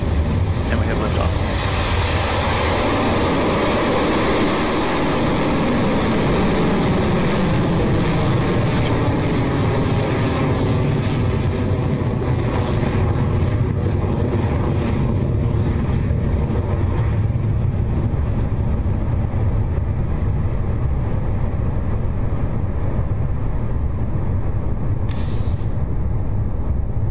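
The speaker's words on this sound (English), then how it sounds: "our 45th Electron is now in the air, having successfully lifted off the pad at Launch Complex 1" Rocket Lab Electron rocket lifting off from Launch Complex 1, a loud continuous roar that holds steady and slowly fades in the upper range as the vehicle climbs away.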